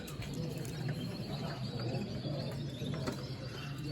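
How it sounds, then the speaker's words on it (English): A show pigeon at a club exhibition coos softly amid faint room noise and scattered background chatter, low and fairly quiet throughout. "That's a lovely bird."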